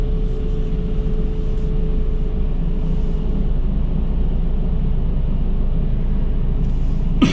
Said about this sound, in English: I hope you can still hear over this street sweeper.